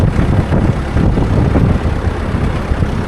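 A John Deere 7000 tractor engine idles with a steady low rumble, continuous and fairly loud, with wind noise mixed in and no talking.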